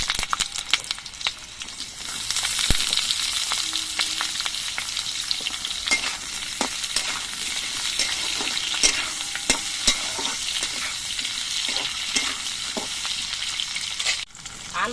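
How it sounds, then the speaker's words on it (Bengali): Potatoes fry in hot mustard oil in a kadai while being stirred, giving a steady crackling sizzle broken by frequent scrapes and clicks of the spatula, close and fairly loud. "কড়াইয়ের তেলটা গরম হয়ে যাওয়ার পর এর মধ্যে আলুগুলো ভেজে নিচ্ছি।"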